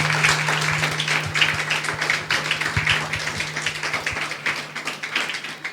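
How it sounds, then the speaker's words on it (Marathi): A church congregation claps together during a Sunday sermon, a lively stream of hand claps over a steady low hum, fairly close and sustained for several seconds, with a few sharper individual claps standing out. "वाजवा वाजवा, टाळ्या वाजवा, कंजूशी करू नका"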